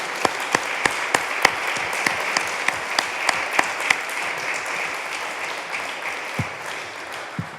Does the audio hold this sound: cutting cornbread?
no